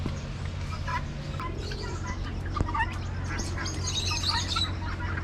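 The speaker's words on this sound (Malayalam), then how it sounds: "കോഴികളും താറാവും അരയണ്ണവും ഒക്കെ ഉണ്ട് ഇതിനകത്ത്." Farm poultry, including chickens, ducks and geese, make scattered chirps, squawks and calls at mid distance, busy and overlapping over a low steady background hum.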